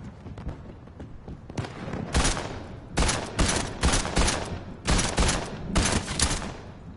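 Assault rifle fire in the video game Fortnite, loud bursts of rapid automatic shots repeating in several clusters with short pauses between, close and dominant throughout.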